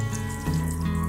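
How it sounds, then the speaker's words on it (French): Water pouring steadily from a tap as an item is rinsed by hand under it, a loud close continuous gush with a slight shift in tone as the hand moves through the stream. "Ensuite, vous le rincez, tout simplement,"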